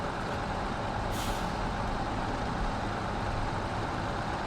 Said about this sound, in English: I thought it was a truck still running.